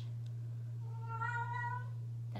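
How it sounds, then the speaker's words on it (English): A cat meows once in a craft studio, a single drawn-out, moderately faint cry over a steady low electrical hum. "That's my cat."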